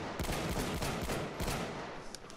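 Heavy gunfire in the video game Battlefield 1: dense, overlapping automatic bursts and loud shots that run nearly continuously, with sharper cracks standing out at intervals.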